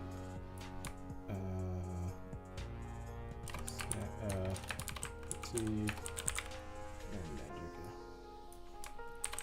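Computer keyboard typing during a late-night Unreal Engine 5 C++ programming session, with continuous rapid clicks under game music, in a busy bursty rhythm throughout.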